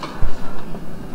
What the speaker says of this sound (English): Sorry about that clicking noise